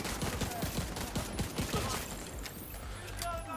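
Rapid bursts of battle rifle fire in The Division 2 shooter game, a quick run of sharp, evenly spaced shots with mechanical clicks, under someone talking.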